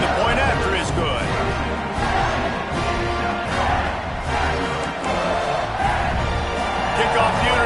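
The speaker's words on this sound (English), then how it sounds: "this crowd is feeling themselves after that last drive" Stadium crowd noise from a South Carolina vs Clemson college football video game, a steady roaring cheer that swells and holds throughout, with commentator-style talk layered on top.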